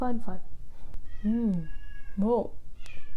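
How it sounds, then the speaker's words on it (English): A cat meows a few times, drawn-out and fairly close, with a person briefly exclaiming in between. "That is a cat."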